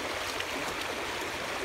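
Fast-flowing stream water at a fishing spot rushes in a steady, loud, broadband wash that fills the short stretch without pause.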